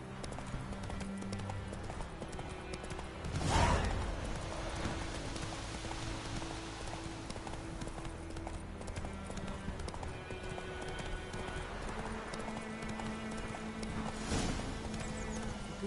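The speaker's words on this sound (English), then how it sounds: "Run, Roach." Hooves of the horse Roach clip-clop steadily through a gallop in The Witcher 3, with rain pattering underneath and two louder bursts of noise partway through.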